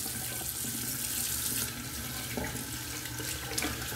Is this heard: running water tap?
yes